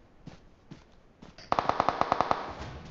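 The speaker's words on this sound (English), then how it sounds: "Oh, he's shooting me through the window." Rapid automatic gunfire through a window in PUBG Mobile, a quick burst of about ten sharp evenly spaced shots following a few scattered softer thuds.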